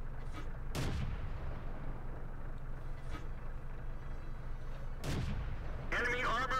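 Tank cannon shots in World of Tanks from a Crusader tank firing at range, several loud booming blasts spaced a few seconds apart over a low rumbling engine bed, with a short burst of talk near the end.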